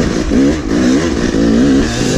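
Motorcycle engine revving hard during an enduro race on a stick-strewn track, loud and close with a wavering, surging pitch.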